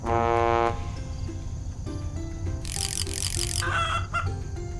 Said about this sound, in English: You've found one of me chickens.